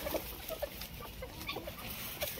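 Soft, scattered clucking from several chickens scratching in soil on a poultry farm, short murmuring calls over a quiet outdoor background.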